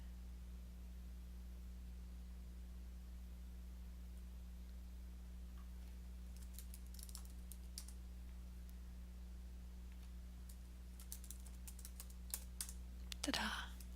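Light typing on a computer keyboard, a scattering of faint quick clicks that grows into a short flurry near the end over a steady low electrical hum.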